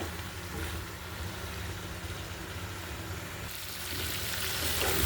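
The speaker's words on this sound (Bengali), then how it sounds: "তাই আমি ঢাকনা ছাড়া এভাবে কষিয়ে নেব মাছের সাথে।" Bitter gourd and shrimp sautéed without a lid in a pan: a steady, moderately quiet sizzle and hiss of frying runs throughout, swelling slightly toward the end, with no talking.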